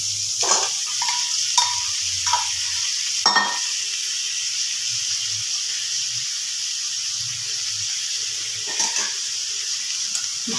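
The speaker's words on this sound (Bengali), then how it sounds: "ভালো করে ডালিয়াটা একটু ঝরঝরে করে মিশিয়ে নেব" A spoon stirring dalia together with a boiled egg in a pot, with a few soft scraping strokes over a steady background hiss, fairly quiet and sparse.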